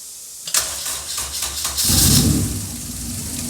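A Honda K24 engine in an EK Civic hatch cranks and catches after a brief fuel pump prime, then rises into a loud, steady idle, close up with no talking.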